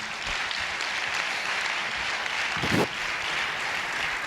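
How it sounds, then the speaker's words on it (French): An audience applauds a co-author joining a book event, a dense, continuous clapping from a crowd in a hall, fairly loud and sustained throughout. "Et je crois qu'on peut l'applaudir aussi."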